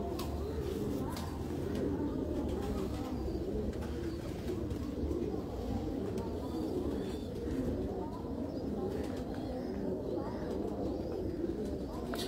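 Heera Laal breed pigeons coo steadily in a loft, a dense layered murmur of many birds close by, with faint voices mixed underneath throughout.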